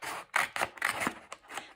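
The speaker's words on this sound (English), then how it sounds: "Cut your yellow, orange or red card into strips." Scissors snip through yellow, orange or red coloured card in a few quick, close cuts, each a short crisp burst separated by brief pauses.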